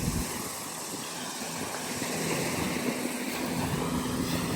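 A tour boat near Thailand's Phi Phi Islands gives off a steady, continuous engine drone mixed with broadband wind rush, holding level throughout with no talk.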